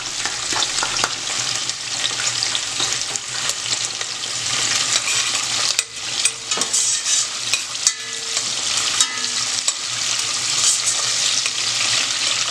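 Chopped calabresa sausage and garlic frying in plenty of fat for tutu de feijão, a loud, dense sizzle with repeated spoon scrapes and stirring knocks against the pan.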